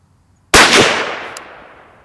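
A single loud, close rifle shot from a T/C Encore during a torture test: a sharp crack that rings out and decays slowly over more than a second.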